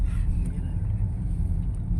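Inside a moving car, a steady low rumble of engine and road noise fills the cabin, close and continuous, with faint voices underneath.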